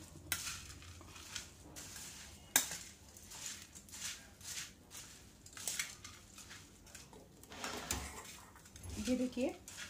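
A spoon stirs chopped tomato and onion in a bowl for Mumbai bhel puri, giving soft irregular scrapes and clinks with one sharper tap, faint and close.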